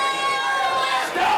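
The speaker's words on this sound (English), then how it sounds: "Stop booing." A wrestling crowd at a UWA Elite show roars in a dense, continuous wash of voices, sustained and loud throughout with no breaks.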